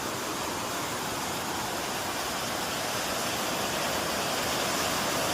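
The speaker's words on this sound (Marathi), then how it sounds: "इथे छोटे छोटे झरे आहेत, तेच पाणी इथून जातंय खाली।" Small streams of rainwater run along the road to Dhopeshwar temple in the rain, making a dense, steady rushing wash of water that stays even and fairly soft throughout with no voices.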